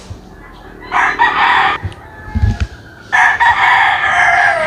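Roosters crow loudly nearby, two long calls separated by a pause, with scattered clucks and faint background noise in between.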